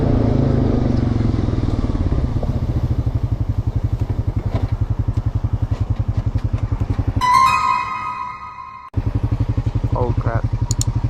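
A sport motorcycle's engine pulses rapidly and steadily close by on a road, then drops away for a moment before returning; voices talk over it throughout.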